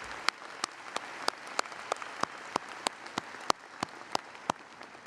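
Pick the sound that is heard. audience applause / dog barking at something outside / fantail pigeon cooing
audience applause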